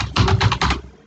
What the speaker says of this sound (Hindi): इसके लिए एक्सिस बैंक हम टाइप करेंगे